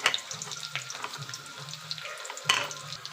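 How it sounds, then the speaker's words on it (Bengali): Chopped onion frying with garlic and ginger in a pan crackles and sizzles continuously, close and moderately loud, with a sharper burst of spitting partway through. "আমার আদা রসুন পেঁয়াজ ভাজা হয়ে গেছে"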